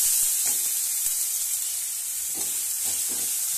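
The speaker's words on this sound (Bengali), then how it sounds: "এবার আদা কুচানোটা দিয়ে দিলাম। দিয়ে একসঙ্গে ভালো করে ভেজে নিচ্ছি।" Chopped ginger frying with a little salt in a pan gives a steady, close sizzle, with soft stirring scrapes breaking through now and then.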